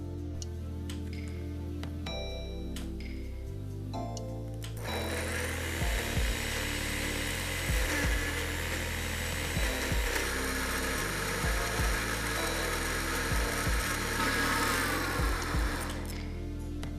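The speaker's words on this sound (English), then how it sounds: "And now we can blend everything until it's all smooth." A blender purees carrot mole sauce with chipotle peppers until smooth. A low motor whir runs steadily, then turns louder and denser about a third of the way in and keeps churning with periodic knocks to the end.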